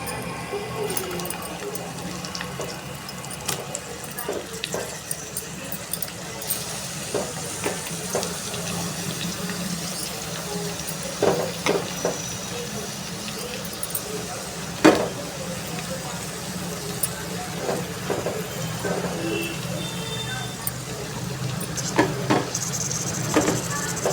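Onion and ginger-garlic paste sizzle in a pan while prawn thokku is cooked, a low, steady frying hiss dotted with scattered pops and clicks, with a voice occasionally talking over it.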